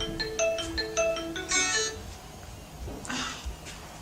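A phone ringtone plays a bright repeating melodic pattern of short tones, then a louder burst, fading into quieter noise before the call is answered; no talk over it.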